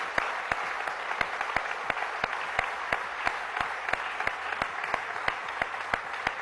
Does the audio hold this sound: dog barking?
no